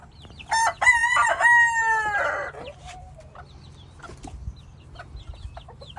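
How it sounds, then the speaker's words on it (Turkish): Chickens and a rooster in a farmyard, with a loud rooster crow near the start followed by scattered softer clucks over a low steady background hum. "Tavukların hepsine seslenecek şimdi. Tavukları çağır."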